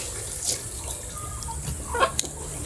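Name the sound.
chickens clucking on a farm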